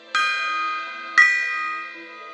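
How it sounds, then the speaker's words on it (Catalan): A gong is struck twice about a second apart, each stroke ringing bright and metallic before slowly fading. "el gong"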